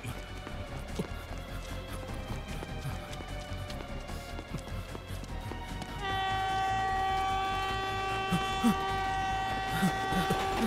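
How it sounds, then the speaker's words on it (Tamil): A train rumbles past with steady clatter, then a loud sustained horn blares over the rolling noise for several seconds. "சார், பின்னாடி ட்ரெயின் வருது."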